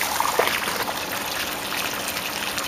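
Water runs off a car panel coated with Duragloss Aqua Wax with Polycharger, giving a steady, close trickling and sheeting wash with light splashy texture and no voices.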